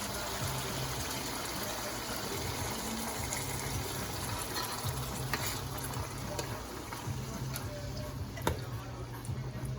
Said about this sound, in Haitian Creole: Maintenant, on va ajouter de l'eau. L'eau qui était bouillante